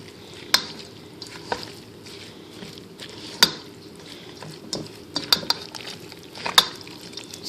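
Filling of fish, crab, lime juice, cilantro, chile, tomato and V8 juice being stirred in a bowl, with wet scraping and sporadic sharp utensil clacks against the bowl, close and alone.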